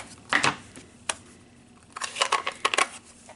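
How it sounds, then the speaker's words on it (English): A Big Shot die-cutting machine works a small card piece for a handmade note card, giving short bursts of clicking and crunching mechanical noise in two clusters, close and fairly quiet, with no voice. "I'm ready to cut that out with the Big Shot."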